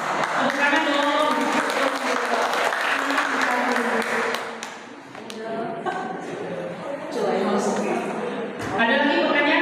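Applause from a classroom audience at a teacher training session, a mix of clapping and taps under ongoing talk, fading briefly midway before swelling again.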